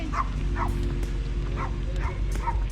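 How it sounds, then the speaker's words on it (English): Pomeranian puppies bark in a steady run of sharp, high yaps, about one every half second, close and fairly loud over a constant low rumble of background noise. "Oh yeah, they're Pomeranians."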